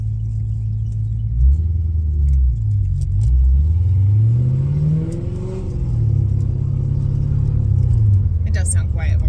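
A loud car engine rumbles and revs in rising and falling surges, heard from inside the vehicle, with people talking over it throughout.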